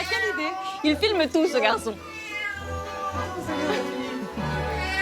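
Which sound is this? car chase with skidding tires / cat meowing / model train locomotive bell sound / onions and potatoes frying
cat meowing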